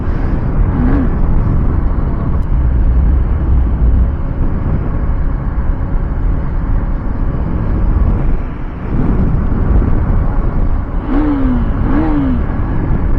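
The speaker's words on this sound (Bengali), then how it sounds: "এটাতে সাউন্ডটা সেই সাউন্ড, আমার বাইকটা থেকেও বেশি সাউন্ড এটা" A sport motorcycle, a Yamaha R15 or Hero Xtreme 200, roars with a loud sustained engine drone and rising revs, heard close amid heavy wind buffeting on the move, with a short dip in the middle.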